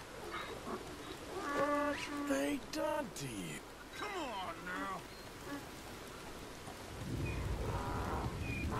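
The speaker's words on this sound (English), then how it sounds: "We've got a thunderstorm coming." Rain and thunder from a thunderstorm in the video game Red Dead Redemption 2, a steady patter under in-game talk, with a deeper rumble swelling near the end.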